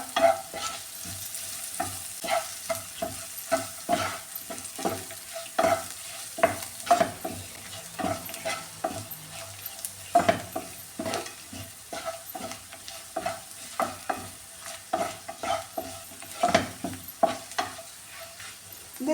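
Kashmiri chili powder and turmeric fry in hot oil in a pan for an ivy gourd and carrot stir-fry, with a steady sizzle and repeated scraping stirs at close range throughout, no voices.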